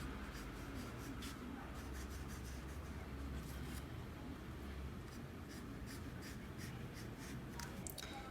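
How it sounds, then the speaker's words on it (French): A colored graphite pencil colors in the outline of a hood on a drawing, giving faint, close scratchy strokes on paper in a soft, uneven rhythm, with quiet hiss underneath. "Ensuite j'utilise la couleur 5160 des graphites pour colorier les contours de la capuche."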